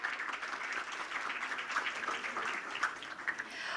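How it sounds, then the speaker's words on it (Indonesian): Steady applause from a festival conference audience at Bali Digital Festival 2022, a continuous dense wash of clapping at moderate distance with no talk over it. "Berikan tepuk tangan yang meriah."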